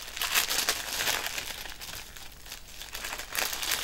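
Plastic film bag crinkling and rustling up close, a sealable wrapper for storing rhinestone chain trim, with irregular bursts of crackle and no talk.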